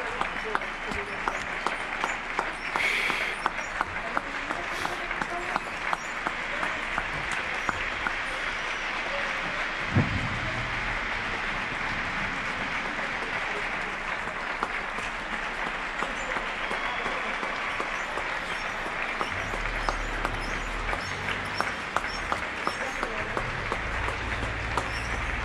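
Balcony applause for health workers in Getxo on the sixty-fourth evening, a Sunday in May 2020: steady, spread-out clapping from many neighbours echoes between buildings for the whole span, with occasional voices and a brief knock partway through.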